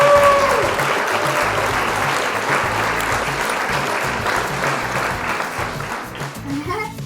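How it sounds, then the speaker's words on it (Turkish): A small group claps steadily after a win in a family board game at home, a dense continuous round of applause that slowly tapers off, with voices talking over the end. "alkışlar Muhammed'e o zaman"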